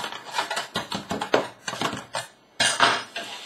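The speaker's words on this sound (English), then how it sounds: "Then loosen it with a knife" Short scraping and clinking strokes of a knife run around the edge of a metal tin to loosen a freshly baked banana cake, several close bursts with brief gaps between them.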